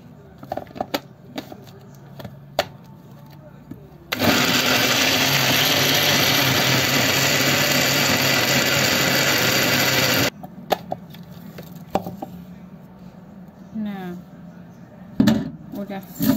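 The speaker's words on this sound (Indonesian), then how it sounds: "Bumbunya saya mau pakai blender cepat ya." Electric blender grinding spice paste for kampung-style yellow-spiced duck runs loud and steady for about six seconds, a continuous whirring roar, with quieter kitchen clatter and talk before and after.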